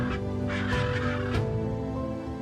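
Scarlet macaws call in the Amazon rainforest, giving several harsh, raucous squawks in quick bursts over a steady tonal background.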